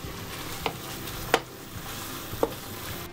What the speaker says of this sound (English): the potatoes are cooking quite nicely while this mince is browning off